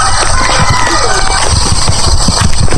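Chicken or rooster sounds at a farm with poultry and pigs in rural Bukidnon, scattered clucks over a steady engine-like hum and background noise.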